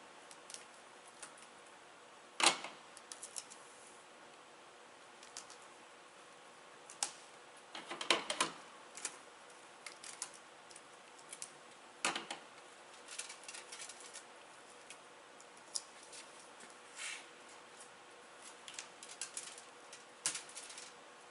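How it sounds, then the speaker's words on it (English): Plastic wrap being stretched and pressed over a box, making quiet crinkling rustles and sharp crackles in scattered clusters, close and soft against an otherwise silent room. "you want to make sure that that plastic wrap gets sealed on there nicely"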